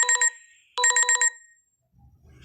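A telephone rings in two bursts of trilling electronic tones separated by a short pause, loud and close, then a faint low rumble follows.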